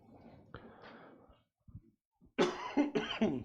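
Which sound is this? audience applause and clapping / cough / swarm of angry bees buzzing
cough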